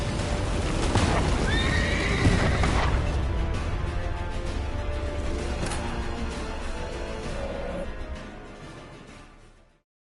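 Roach, the horse from The Witcher 3, neighs loudly up close during a fast gallop, with muffled hoofbeats under a dense, rumbling game soundscape that fades at the end.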